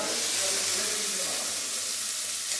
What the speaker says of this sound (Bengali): এক মাছ ভাজা বসিয়ে দিয়ে